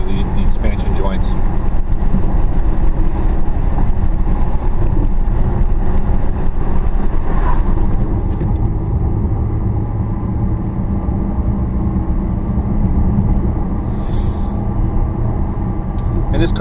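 Steady road and tire roar from a stock 2016 Dodge Challenger R/T 5.7 with mid-muffler delete on Atturo AZ850 tires, cruising a grooved highway over expansion joints; continuous low rumble beneath someone talking throughout.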